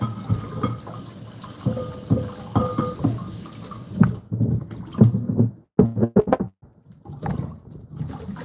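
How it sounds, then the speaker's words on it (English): Canned food held under a running kitchen tap: water splashes and gurgles against the tin, then breaks into short irregular splashes and drips before stopping. "When I buy canned food, I just like to rinse them."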